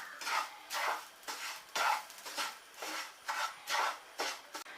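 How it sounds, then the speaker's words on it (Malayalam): A spoon scrapes and stirs rava and grated coconut roasting in a pan for rava laddu, making about nine rhythmic rasping strokes, close and clear, with no talking. "അതുവരെ നമുക്കൊന്ന് ഇളക്കാം."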